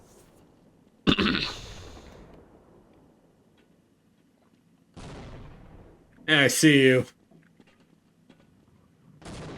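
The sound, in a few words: grenade explosions in the video game Half-Life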